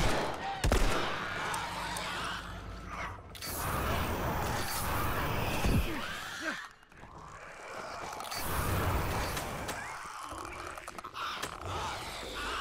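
Gunfire cracks in The Last of Us Remastered on PS5: repeated shots and rapid bursts mixed with mechanical clicks, creaks and grunts over busy game ambience.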